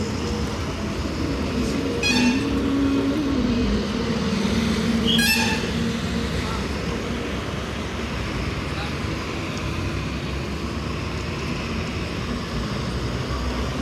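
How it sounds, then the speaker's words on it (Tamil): An SETC bus bound for Coimbatore on the Ernakulam to Velankanni route pulls in, a low engine and traffic rumble with two short horn blasts early on, while faint voices sit in the background. "ஒரு கோயம்புத்தூர் வண்டி வருது பாருங்கள்."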